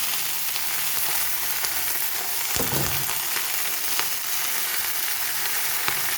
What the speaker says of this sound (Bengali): এবারে পালং শাক দিয়েও 2 মিনিট নেড়ে চেড়ে নেব।